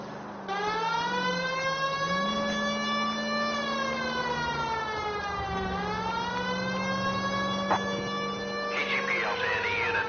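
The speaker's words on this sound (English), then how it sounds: "You know we've got a siren, Phelps." A wailing emergency siren rises and falls steadily for the whole stretch, fairly distant and unbroken, with a brief click near the end and no clear talk over it.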